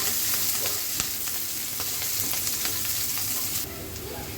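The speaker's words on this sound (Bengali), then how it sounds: "পেঁয়াজটা যখন একটু ভাজা ভাজা হয়ে যাবে" Onion fries in a little oil in a pan, giving a steady, close sizzle with light scraping taps from stirring throughout.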